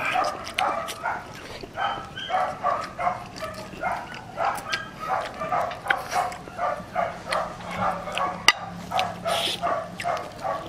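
A dog barks repeatedly in a steady rhythm of sharp yaps, some whining, fairly close, with people's voices mixed in at times.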